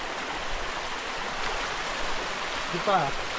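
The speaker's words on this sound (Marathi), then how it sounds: "कसा वाटत आहे तुम्हाला पाणी? एक नंबर वाहत आहे." Steady rushing of a flowing stream in forest near the Pandav cave in Dang, continuous and fairly loud, with a brief voice near the end.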